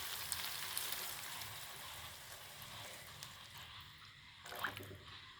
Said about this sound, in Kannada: 1 ಗ್ಲಾಸ್ ನೀರು ಸೇರಿಸ್ಕೊತೀನಿ.